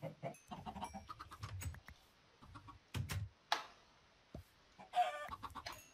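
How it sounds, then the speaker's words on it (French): Chickens in the video game Minecraft give short clucks and squawks, close and intermittent, mixed with sharp hit and footstep sounds and quiet gaps between them. "On va tuer quelques poulets."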